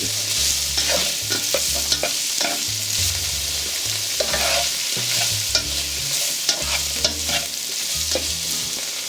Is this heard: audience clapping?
no